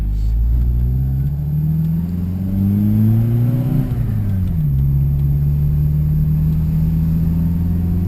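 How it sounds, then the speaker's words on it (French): A Volkswagen Corrado G60 engine revs up with a rising supercharger whine, then drops and settles into a steady drone, loud and close. "C'est caractéristique ça, le bruit du compresseur sur un G60."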